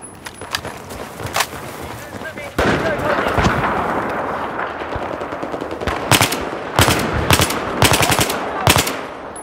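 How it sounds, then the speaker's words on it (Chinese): Enemy machine gun fire in the video game Battlefield 4, loud rapid bursts of automatic fire with several sharp separate shots and a dense stretch of sustained fire, set against steady battlefield noise. "我发现了敌军机枪"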